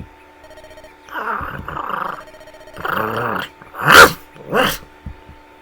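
Dog growling in the Fire Emblem video game, several low rumbling growls and snarls in bursts over a quiet music backdrop, with two louder sharp yelps near the end.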